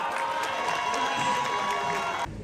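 A school audience cheers loudly with clapping mixed in, a crowd of young voices shouting together at close range that cuts off abruptly near the end.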